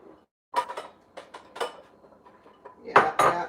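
A metal pot and cooking utensils clatter in a home kitchen as chopped onions are added for a creamy veggie tortellini soup, several sharp knocks and scrapes in quick succession, the loudest near the end.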